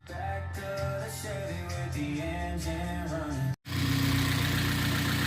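A rebuilt Vauxhall Astra VXR engine runs with a steady mechanical hum and harmonic drone. The sound cuts out abruptly, then returns louder and rougher as the engine keeps running close by.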